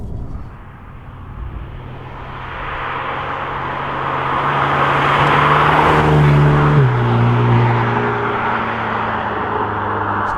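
A Renault Alpine A110 sports car's engine rises from idle into a sustained climb in revs, heard from inside the car, steady and loud with a building engine tone and no talk.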